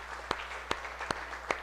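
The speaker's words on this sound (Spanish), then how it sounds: "Vamos a darle un aplauso al Señor," Four sharp, evenly spaced claps sound in a church during a Sunday service, over a steady background hum and murmur.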